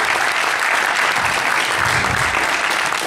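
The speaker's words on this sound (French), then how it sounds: "on peut les applaudir, les encourager" Audience applause at a Gears of War Judgment Cup 2013 esports tournament final, a loud, continuous wall of clapping from a large crowd, steady throughout.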